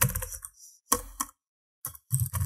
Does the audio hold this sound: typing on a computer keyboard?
yes